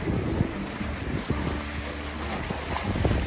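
Steady wind rushing past a solo sailboat rounding a point off Vancouver Island, with broadband buffeting noise over low water sounds, continuous and moderately loud throughout.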